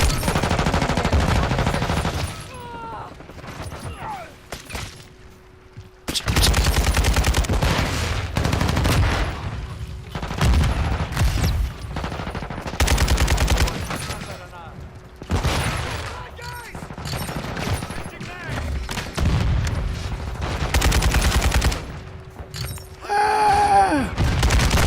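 Sustained gunfire from the video game Call of Duty, a dense rattle of rapid machine-gun bursts and fusillades that fills most of the stretch with only short pauses, while a voice speaks now and then over it.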